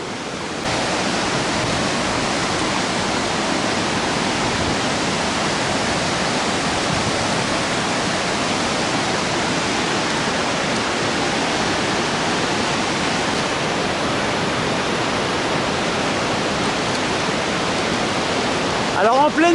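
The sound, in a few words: Bérard waterfall roaring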